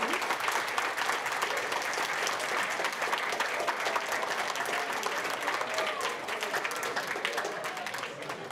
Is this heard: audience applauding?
yes